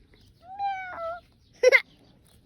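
A person imitates a cat's meow with one drawn-out, close, gentle mew, followed by a short burst of speech.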